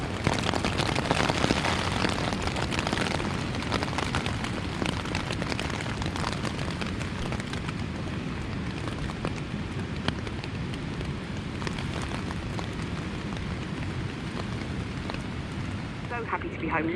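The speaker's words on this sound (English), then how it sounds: "Been raining now solid for over 8 hours." Steady rain drums on a Hilleberg Soulo tent during a long downpour, a dense continuous patter that stays loud and even throughout, with no talking.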